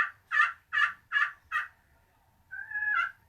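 Four short, rising yelps of a turkey call imitation in a quick, even rhythm, then a pause and a longer drawn-out call, fairly close and clear against a quiet background.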